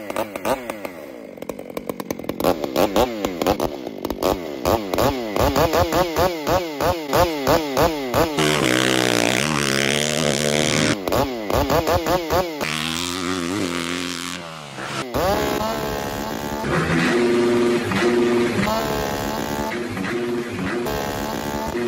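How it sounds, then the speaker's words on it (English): A chainsaw fitted with a free-flow exhaust, milling lumber, rasps and revs loudly like a two-stroke 250cc dirt bike, with repeated throttle blips giving way to sustained high-revving cutting runs up close. "He installed a free flow exhaust on one of the chainsaws simply because it amuses him to sound like a two-stroke"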